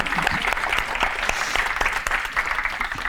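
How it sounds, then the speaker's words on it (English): A crowd claps steadily, a dense, even patter of many hands filling the room at a consistent loud level throughout. "Can we give her a round of applause?"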